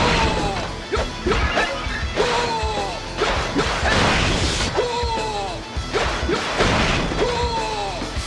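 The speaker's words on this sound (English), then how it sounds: "Demolition has you destroying jars, crates, wooden oxes, juggernauts, and battering rams to earn points." Wooden crates and clay jars smash repeatedly in Dynasty Warriors 4's Demolition mode, a steady run of loud crashing breaks with whooshing swings and thuds, about one impact per second, dense and close with no talk.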